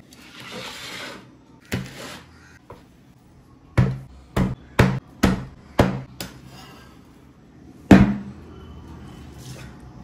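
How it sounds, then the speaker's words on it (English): Garlic is pounded, a full pod crushed by hand in a kitchen: a handful of sharp, close thuds, several in a quick uneven cluster and one heavier blow near the end, with faint rustling between and no talking. "I've taken here 1 full pod of garlic, which I'm going to pound or crush it and put it in."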